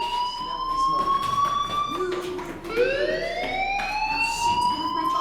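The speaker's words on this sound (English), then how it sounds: "do you hear that fire alarm? That means you should be outside." A school fire alarm in Life is Strange blares loudly and continuously, its shrill electronic tones wavering and sweeping up and down without a pause.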